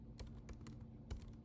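Quick, light keystrokes on a computer keyboard come in a soft, uneven run, fairly close and faint, over a low steady background hum.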